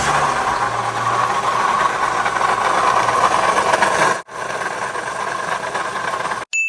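A loud, steady mechanical drone comes from a running 2011 Toyota Sienna engine with a noisy, failing water pump, heard close up with a brief dropout partway through.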